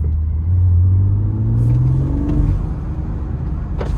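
An Audi S1 engine revs as the throttle is pressed and released, a close, deep rumbling drone that rises in pitch and then falls away, heard from inside the car with no voices.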